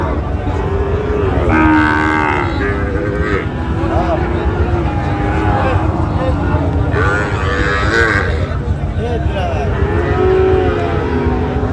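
A young Sahiwal calf moos at a crowded cattle market, several drawn-out calls rising out of loud, constant chatter and background noise, with people talking throughout.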